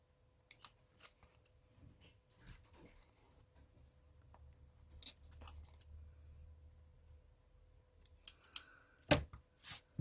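Paper being trimmed during calendar making, quiet intermittent snips and rustles close by, ending in a few louder sharp cuts.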